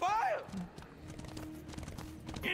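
Lancelot's pony mount in the Smite video game, hooves clip-clopping in a light rhythm beneath game effects, with someone talking over it.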